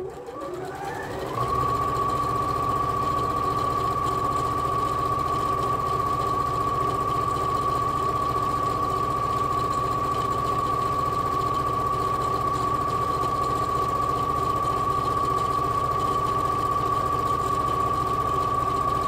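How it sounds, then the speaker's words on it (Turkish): A sewing machine stitches a second seam beneath the first one on a garment, running continuously for about eighteen seconds with a steady high whine and mechanical rattle, close and loud. "Şimdi bu dikişin altından bir dikiş daha dikiyorum."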